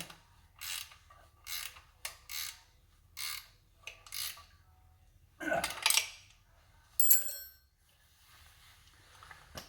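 A ratchet tightening the shotgun shocks on an Evo chopper, giving short bursts of clicking at an irregular pace, then a brief metallic clank and a faint ring, all close and fairly quiet.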